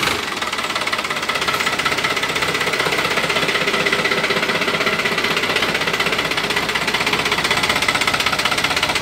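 A 50 hp New Holland 3600-2 tractor engine runs steadily at close range, a loud, continuous diesel chugging with a fast knocking rhythm throughout.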